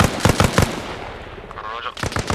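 Gunfire in ARMA Reforger at Sunset Harbor, a quick string of sharp shots that trails off, with a later burst as a voice talks faintly underneath.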